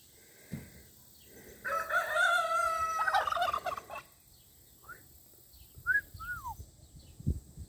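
Turkeys gobble in rattling bursts, followed by a few shorter calls and squawks nearby, with quiet gaps between.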